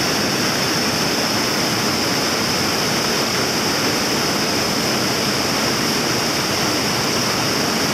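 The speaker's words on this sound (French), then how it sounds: "Voilà, c'est un ruisseau magnifique." A mountain stream in the Cévennes of Hérault rushes steadily over rocks, a loud, unbroken wash of water close to the listener with no voices.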